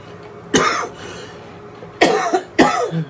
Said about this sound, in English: You may hear me doing a lot of coughing here for a while.